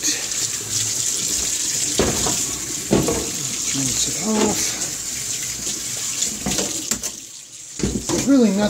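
Hot tap water runs steadily from a faucet into a sink to rinse freshly cleaned printed circuit boards, a continuous splashing flow with clattering handling noises and some speech-like sounds mixed in.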